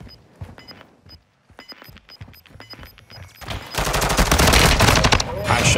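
Rapid automatic gunfire in the shooter game Warzone, sparse sharp shots at first that build into loud, dense sustained bursts, close and punchy.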